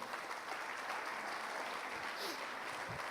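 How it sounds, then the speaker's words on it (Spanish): A church congregation applauds in a dense, even wash of clapping, heard quietly and a little distant throughout. "¿Cuántos dicen amén y le dan un aplauso al Rey?"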